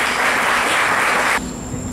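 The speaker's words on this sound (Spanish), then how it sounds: "para quien pido un fuerte aplauso" Applause from a conference audience at a medical college event honouring its president, dense clapping for over a second before stopping abruptly.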